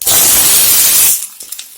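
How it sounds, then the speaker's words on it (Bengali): Boiled potatoes hit hot mustard oil in a wok with a loud, dense sizzling hiss for about a second. The hiss cuts off abruptly and a few faint clinks follow. "এখন আমি আলুটা ভেজে নেব।"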